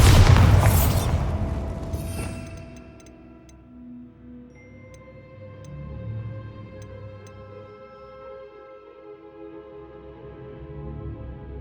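A Bombarda spell explodes in Hogwarts Legacy with a loud close blast, followed by a fading rumble and scattered faint ticking tones, no voices.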